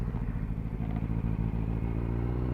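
A Suzuki B-King naked motorcycle, a stripped-down Hayabusa, idles with a steady, loud low-pitched engine rumble throughout, with some light mechanical clatter and no talking.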